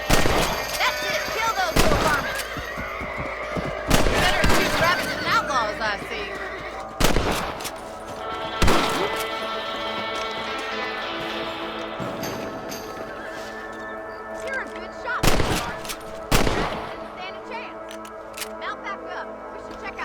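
Sharp rifle shots crack out one at a time at rabbits in the video game Red Dead Redemption, spaced several seconds apart, mixed with horse whinnies, hoofbeats and background music, with voices talking.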